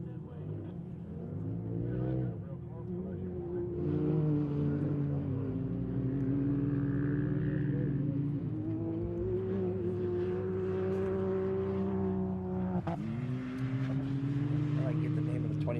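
Turbo UTV race cars roar along an off-road track at a State Line Shootout race, engines revving and rising in pitch as they pass, while a commentator talks over the noise throughout.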